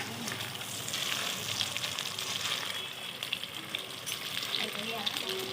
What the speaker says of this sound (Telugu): ఫ్రై చేస్తున్నారు ఇవి.